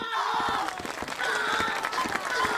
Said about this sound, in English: Okay, why are you clapping?